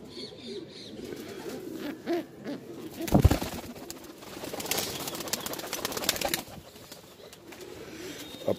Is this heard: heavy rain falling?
no